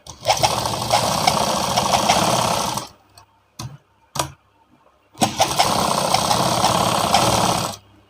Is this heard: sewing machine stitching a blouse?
yes